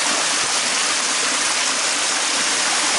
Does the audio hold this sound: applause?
no